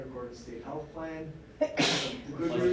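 One loud sneeze bursts out near the microphone at a school board meeting, sharp and breathy, while a speaker keeps talking before and after it.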